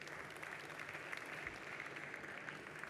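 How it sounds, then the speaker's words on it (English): A conference audience at a nuclear energy panel gives a panelist a warm hand, with dense, sustained applause from a crowd of many hands clapping evenly throughout. "Give him a warm hand."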